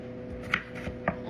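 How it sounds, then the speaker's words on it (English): Knife chopping potatoes in a home kitchen, heard as a few sparse, fairly close chops and taps over a low background hum. "Almost done chopping up these potatoes."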